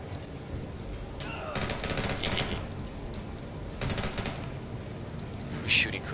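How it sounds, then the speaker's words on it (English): Bursts of automatic gunfire in the tactical game Door Kickers 2, several rapid volleys of close shots separated by short gaps, with a voice talking faintly underneath. "Who's shooting?"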